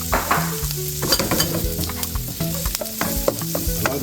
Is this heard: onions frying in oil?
yes